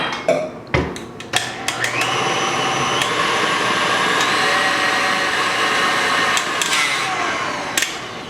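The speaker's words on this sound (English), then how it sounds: "I'm just going to give that another whisk." Vanilla madeleine batter is whisked in a bowl, a loud, continuous mechanical whir like an electric mixer running steadily close by, with a few clanks at the start and end.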